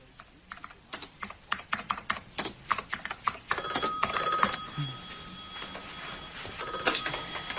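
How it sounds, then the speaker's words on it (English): Telephone ringing in a radio drama set in an Oxford office, heard after a run of rapid keyboard-like clicks, the electronic ring sounding as a faint steady tone under continued tapping. "Peter Cousins' phone. Can I help you?"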